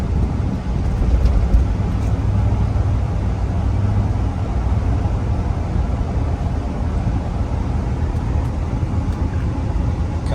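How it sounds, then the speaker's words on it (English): A 2005 Chevrolet SSR truck drives along with its engine giving a loud, steady drone and road rumble, and no one speaks. "Engine sounds amazing."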